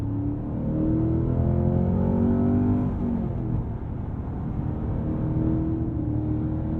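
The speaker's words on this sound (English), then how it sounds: "at the very least, that throaty V8 is here." A Cadillac CT5 Blackwing's V8 engine drones loud and close, holding a deep, throaty note that rises and swells as it revs, with no speech over it.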